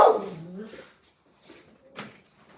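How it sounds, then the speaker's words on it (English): A dog gives one loud close bark, then a few softer whimpering yips and huffs trail off over quiet background. "you heard Colors, you heard something out there, you barking"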